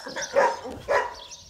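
Dogs at an animal shelter for injured animals giving two distinct, fairly close barks about half a second apart, with no talking.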